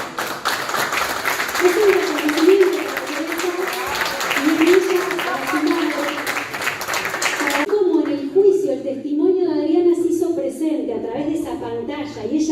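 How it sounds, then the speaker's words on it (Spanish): An audience applauds Teresa Laborde at a book presentation in a hall, sustained loud clapping from many hands that continues as the crowd noise thins toward the end. "un aplauso grande para Teresa"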